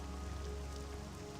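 Steady rain pours over the town of Balmora in the video game Morrowind, a constant dense hiss of drops on surfaces with a low rumble beneath, even and unbroken throughout.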